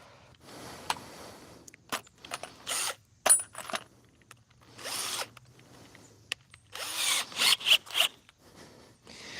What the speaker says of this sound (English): Next, I'm going to drill a hole in this corner all the way through.